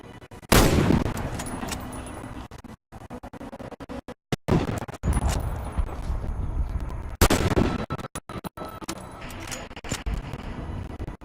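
Sniper rifle fire at targets in the video game Warface: loud, sharp gunshots sound in separate bursts, with echoing tails and short silent gaps between them, and no other sounds alongside.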